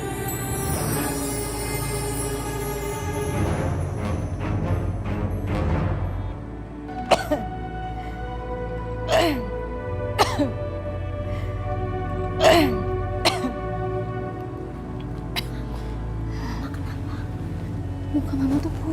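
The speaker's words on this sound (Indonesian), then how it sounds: "Nanti juga batuk Mama sembuh." A woman coughs several times in short, separate, close bursts, with throat clearing between them and quiet talking over part of the passage.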